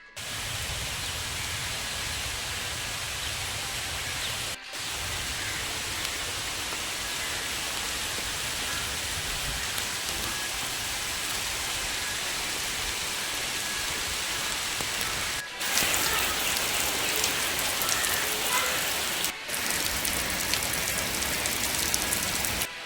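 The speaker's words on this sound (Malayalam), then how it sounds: "അപ്പത്തിന് നല്ല മഴയും മഴക്കാറൊക്കെ ഉണ്ടായിരുന്നു." Heavy morning rain falling steadily on surfaces, a dense unbroken hiss that stays loud and close, briefly cutting out twice and swelling slightly louder toward the end.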